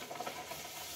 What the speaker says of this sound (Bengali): আবারও একটা আমি ভেজে নিলাম